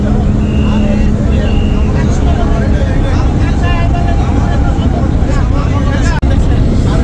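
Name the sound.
large passenger launch ships departing on river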